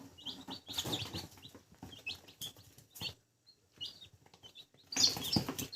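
Crested chicks and Cochin chicks peep in rapid, high-pitched bursts close by, with short pauses between flurries of chirping.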